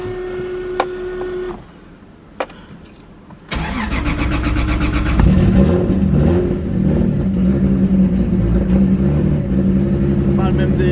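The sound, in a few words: car engine revving, fuel pump audible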